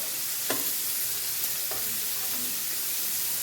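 Shrimp frying in a pan give a steady, bright hiss of sizzling oil, with a few faint clicks as they are turned, close by and without talking.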